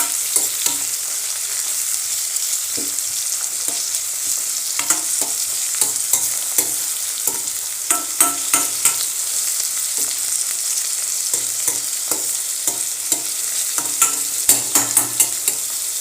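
Chopped tomatoes stirred and cooked in a pan give a steady close sizzle, broken by frequent scraping and clinking strokes of a spoon against the pan.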